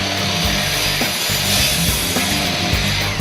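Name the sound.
miter saw cutting on PortaCube STR stand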